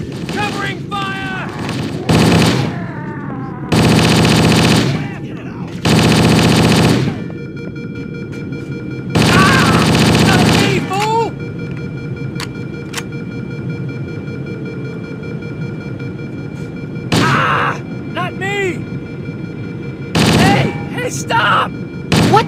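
Gunfire in the video game Halo: Combat Evolved, several loud bursts of automatic weapon fire separated by short pauses, with in-game voices calling out between them.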